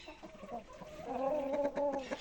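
Hens cluck nearby in a farmyard, a short run of soft clucks rising into a louder drawn-out cackle as they lay eggs.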